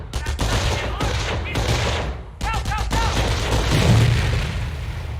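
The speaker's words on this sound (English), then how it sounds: "Let's throw a grenade to destroy the machine gun team." A grenade detonates in the Company of Heroes video game, thrown at a machine gun team: sharp broadband blasts and crackling gunfire bursts, loud and close, with a brief lull before another burst of explosions.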